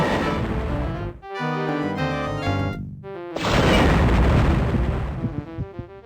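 A concussion weapon blast in Star Wars Dark Forces (1995) gives a loud, sustained explosive roar, with a harsh crash, a brief gap, then a second heavy boom that rumbles on to the end.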